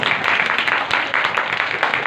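A church congregation claps during a sermon, a brief burst of fairly close, quick, uneven clapping from several people.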